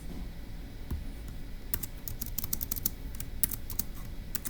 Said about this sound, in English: let's go ahead and type that up in our notes for section D